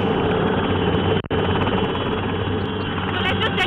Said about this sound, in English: We are on board an Air Force chopper and the dry ration is being thrown into houses